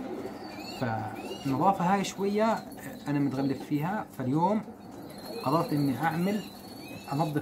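Pigeons coo repeatedly in a rooftop loft, their soft, throaty calls nearby and mixed with faint insect chirring, while someone talks over them almost the whole time.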